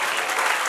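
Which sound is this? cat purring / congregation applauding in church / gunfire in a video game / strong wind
congregation applauding in church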